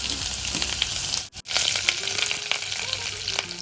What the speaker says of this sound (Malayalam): കുറച്ച് ഉള്ളിയും കൂടി